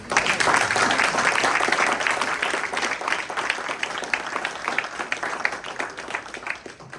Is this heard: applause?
yes